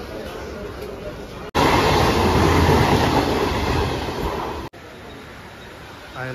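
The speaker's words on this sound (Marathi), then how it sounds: "ट्रेन बघा कशी मस्त आहे." A Mumbai local train at Kanjurmarg station rushes past close by in the rain, a loud steady roar with rhythmic clickety-clack over the rail joints that cuts off after about three seconds.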